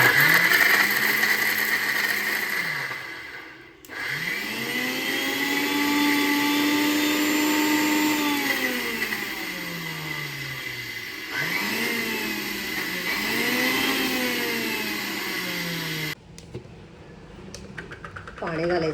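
A kitchen mixer grinder whirs loudly while grinding chutney with a little water, running in long bursts that rise and fall in pitch, pausing briefly between runs before starting again.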